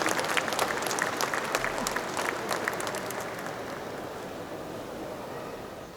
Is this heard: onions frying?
no